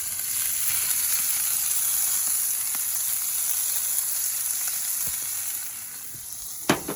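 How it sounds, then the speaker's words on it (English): Onions sizzling on a Big Green Egg grill beside cheeseburgers, a loud steady close frying hiss that fades slightly near the end, followed by a couple of sharp knocks, no speech. "I'm going to go ahead and throw some onions in."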